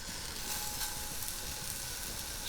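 Shrimp sizzle in a dry pan with kosher salt, a steady, loud, close frying hiss that holds without pause.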